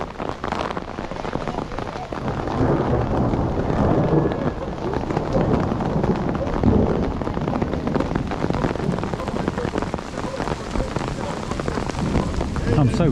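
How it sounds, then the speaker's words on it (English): Heavy rain mixed with hail lashes down at a Vuelta cycling race, a dense continuous roar with wind buffeting the microphone throughout and a voice talking under it. "I don't have to tell you that the rain's getting heavier."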